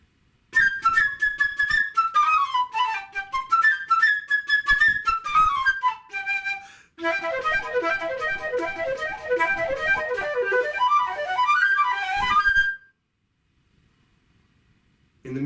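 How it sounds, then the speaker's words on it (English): A solo flute plays the bird theme from Prokofiev's Peter and the Wolf: bright, chirpy phrases with quick trills and runs, a short pause, then a busier fluttering passage that stops abruptly. The flute is close and lively. "The flute gets to play the bird character and sounds like this."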